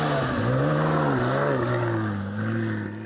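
A car engine, the entry model of a 160,000-euro sports car, revs up as the car pulls away, a loud steady engine note rising and falling in pitch with no voices.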